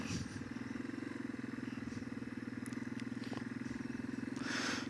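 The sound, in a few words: Yamaha XT225 motorcycle riding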